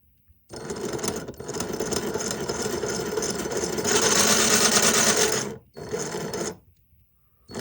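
Battery-powered saw with a loose, sloppy head running in bursts, a harsh buzzing rattle that starts, grows louder, stops briefly, then runs again before cutting off.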